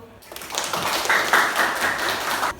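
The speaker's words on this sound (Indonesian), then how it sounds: "Oke, tepuk tangan dulu." Students in a classroom break into a burst of applause, steady dense clapping for about two seconds before it stops abruptly.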